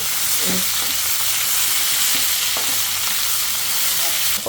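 Boiled local potatoes frying in a pan, giving a steady close sizzle and hiss throughout with a few soft stirring knocks, no voices.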